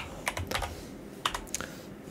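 Quick bursts of keystrokes on a computer keyboard while renaming a folder, close and clear, typed in short irregular clusters with pauses between.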